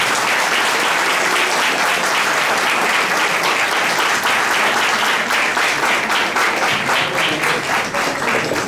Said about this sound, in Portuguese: Palmas para o Pedro Tobias e sua iniciativa